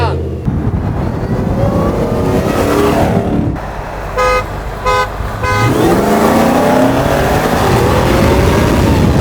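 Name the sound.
supercharged V8 Ford F-150 Raptor accelerating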